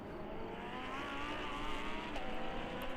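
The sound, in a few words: Lamborghini race cars racing at Red Bull Ring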